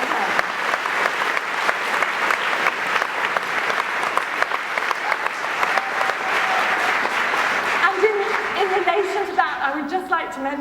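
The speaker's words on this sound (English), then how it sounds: "So could I ask you please to give a huge round of applause to Camelta." Conference audience gives a long, loud round of applause, dense clapping that continues steadily before thinning out, with a few voices and some tonal sound emerging near the end.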